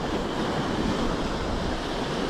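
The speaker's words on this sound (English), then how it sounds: "some waves" Small waves wash steadily over shallow, murky sea water at sunset, a continuous soft hiss of surf mixed with wind buffeting the microphone, with no voices.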